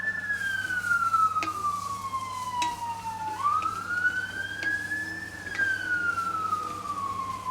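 A fire truck siren wails slowly up and down as the engine passes at moderate distance, a continuous rising and falling tone over low traffic rumble, with soft voices in the background.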